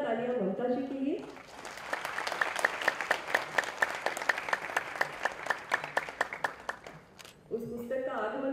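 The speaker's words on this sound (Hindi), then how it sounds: "तो एक बार जोरदार तालियां" An audience at a book launch ceremony applauds in a steady burst of clapping lasting several seconds, framed by a voice speaking before and after.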